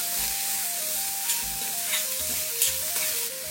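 Steamed beetroot is mixed in an iron kadai, giving a steady hissing sizzle with occasional scraping stirs, heard close and alone over a faint background hum.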